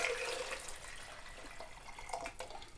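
Rainwater poured from a container into a small pot to cover eggs, a soft continuous trickle and splash heard close and quiet, with no talking.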